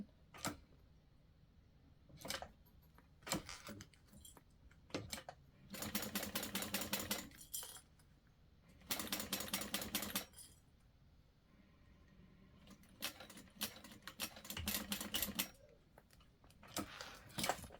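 A sewing machine stitches woven fabric for a small purse, pausing at corners to pivot with a narrow presser foot; bursts of steady mechanical whirring alternate with clicks and quiet handling, fairly close and with no talk.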